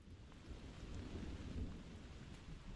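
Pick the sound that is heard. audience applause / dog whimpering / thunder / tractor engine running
thunder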